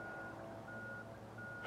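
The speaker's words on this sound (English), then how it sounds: "there's another dump truck going by" A dump truck passes nearby while its reversing alarm sounds a steady high electronic beep, the rumbling engine low underneath throughout.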